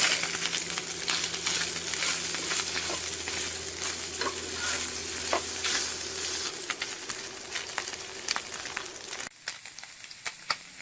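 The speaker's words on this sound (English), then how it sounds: "I feel like the Spam is browned well enough" Spam browning in a frying pan, close continuous sizzling with crackling pops and scraping stir strokes, louder at first, then quieter and sparser near the end.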